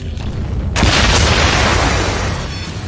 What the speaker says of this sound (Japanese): クイーン第3の爆弾バイツァーダスト。